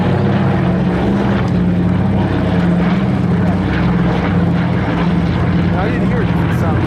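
A propeller-driven warplane passes over a World War Two airshow in Michigan, its steady engine drone and airscrew hum sustained and fairly loud throughout, with crowd voices and talk mixed underneath.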